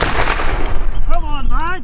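A loud ragged volley of musket fire from Redcoat re-enactors defending a Scottish castle against Jacobites, with crackling gunshots that overlap in close succession, followed by shouting voices.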